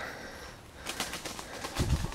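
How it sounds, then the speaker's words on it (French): A turtle dove's wings flap in a quick run of soft, feathery beats, close by and moderately loud, with no voices. "Vu le son, c'est une tourterelle."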